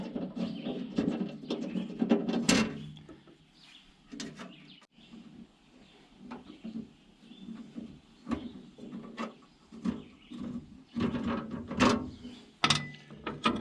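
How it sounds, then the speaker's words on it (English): Bolts being removed from a cover on a Cat D3B bulldozer: close metallic clicks, scrapes and ratcheting clanks in an irregular rhythm of hand work, fairly quiet with no talking. "we're going to take these bolts out of this cover"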